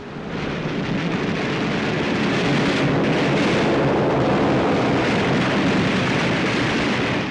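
Anti-aircraft guns on a 1944 warship firing at an attacking torpedo plane, a dense continuous roar of massed gunfire and blasts, loud and unbroken.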